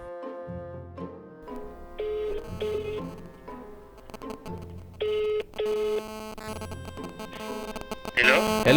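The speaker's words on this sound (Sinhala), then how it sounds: "කමල්ට අපි අරන් බලමු කෝල් එකක් ගන්න කියලා තියන්නයි කියලා." A phone keypad dialing a number gives short electronic tones in an uneven run, with separate beeps and some brief overlaps, close and clear, followed by a louder burst near the end.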